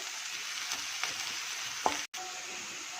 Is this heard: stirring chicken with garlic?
yes